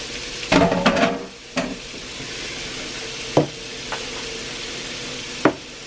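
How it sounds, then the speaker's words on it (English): Beef fries in vegetable oil with a constant crackling sizzle, broken by a burst of spatula scraping and stirring early on and a few sharp scrapes later, close and clear. "I add a little bit more vegetable oil. I want to fry the meat up."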